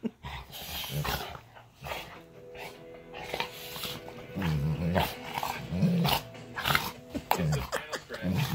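A dog growls in rough play, the rumbling rising and falling in bursts amid scuffling, close by, with a person chattering to it now and then.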